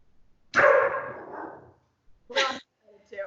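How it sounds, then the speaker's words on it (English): Dog barking indoors in a home kitchen, a loud bark followed by two shorter barks, close by with quiet gaps between them. "That's my dog."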